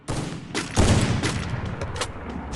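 Gunfire in the mobile shooter game Free Fire, a rapid burst of loud sharp shots repeating over a couple of seconds with no talking.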